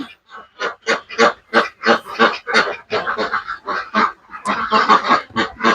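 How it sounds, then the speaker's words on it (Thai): A flock of domestic Yi Liang ducks quacking rapidly and loudly, overlapping calls in a dense, continuous chorus close by. "เลี้ยงเป็ด เป็ดยี่เหลียง"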